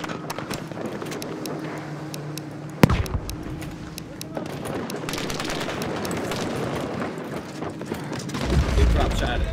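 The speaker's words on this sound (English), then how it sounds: "That's a grenade." Grenade exploding in Battlefield V during a Narvik Conquest match, a sharp sudden blast standing out amid scattered gunfire and game noise, with a player talking around it.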